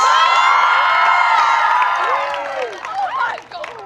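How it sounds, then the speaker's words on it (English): Crowd cheering, whooping and shouting at a press event, loud and dense at first, then thinning into scattered excited calls and voices. "let's give a big round of applause for our guinea pigs"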